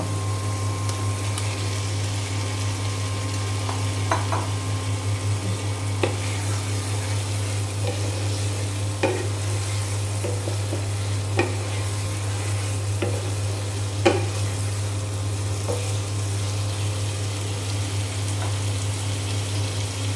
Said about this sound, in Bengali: আমি এখন এই যে ভেজে রাখা ডিম দিয়ে দেব